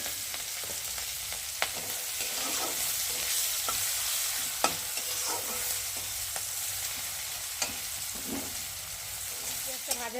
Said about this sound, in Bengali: এখন পেঁয়াজ আর লঙ্কা দিয়ে ভালো করে ভেজে নেব।